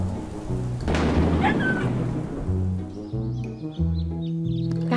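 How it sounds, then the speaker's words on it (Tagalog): Heavy rain hisses steadily with low rumbling thunder, a sharp crack near the start, and a few faint bird chirps toward the end. "Umuulan ng malakas at sumisipol ang hangin."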